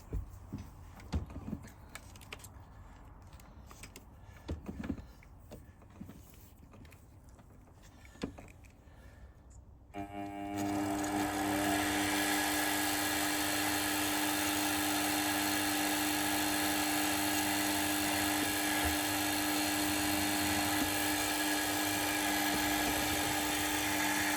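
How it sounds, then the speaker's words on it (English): A spotting drill bores into a small model engine part for a PM Research #3 engine, starting after a quieter stretch with light handling noises, then a steady loud high whine that continues without a break. "and I put my spotting drill in"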